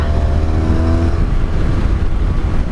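A 1985 Honda Magna V65 VF1100C motorcycle engine rumbles loud and close with a deep, steady throb, briefly rising in pitch before settling.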